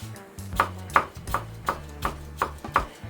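A kitchen knife slicing a green onion into fine needle-thin strips on a cutting board, heard as eight crisp, evenly spaced chops close by with no talking.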